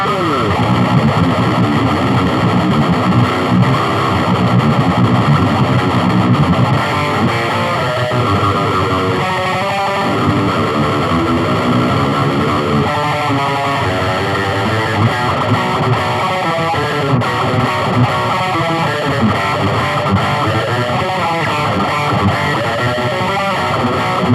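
A high-gain guitar amp on its most extreme channel: heavily distorted electric guitar riffing, loud and continuous, with chugging palm-muted rhythms and sustained saturated chords throughout.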